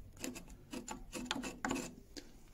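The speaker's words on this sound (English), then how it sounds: "I'm just taking this little bump off here." Soft, close rasping strokes of a file taking a small bump off an E.C.E. Primus adjustable mouthpiece, repeating in short uneven passes at low volume.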